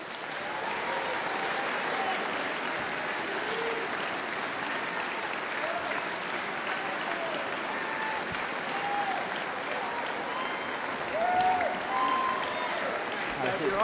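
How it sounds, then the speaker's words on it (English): Sustained audience applause at a political leadership hustings, a dense steady wash of many hands clapping throughout with crowd murmur mixed in. "please give a very large round of applause for the Right Honourable Rishi Sunak MP"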